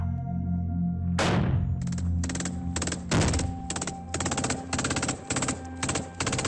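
Rapid gunfire during combat in Afghanistan, with a heavy close blast followed by sharp bursts and repeated shots in uneven rhythm over several seconds.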